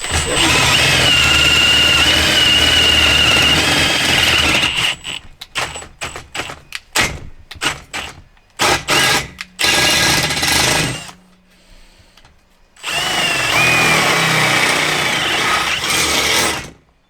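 Power tool enlarging holes in metal parts of a small folding caravan, loud sustained whirring and grinding broken into bursts, stop-start pulses and pauses, then a long run.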